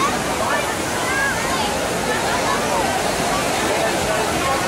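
Churning water in the old bobbing wave pool at Blizzard Beach water park, a steady broad wash of sloshing and splashing that fills the whole stretch, with faint crowd voices mixed in underneath.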